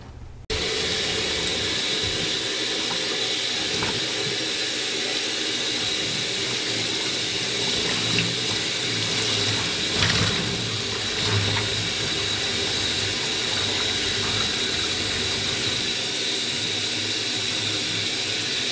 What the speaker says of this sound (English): rinse out any extra water, any soap in it